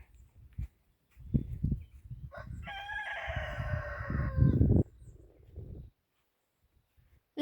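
A rooster crows once, loud and close, amid chickens clucking and rustling nearby, followed by a quieter stretch.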